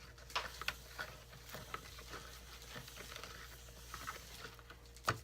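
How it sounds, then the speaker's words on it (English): Lye being stirred slowly into water for homemade organic soap, quiet close scraping and light ticking of a utensil against the container, with a few sharper clinks spaced irregularly over a faint low hum. "I'm going to slowly stir this in."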